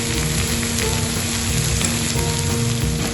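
Capsicum sautés with turmeric in a pan, a dense, loud, continuous sizzle heard up close without breaks or talking.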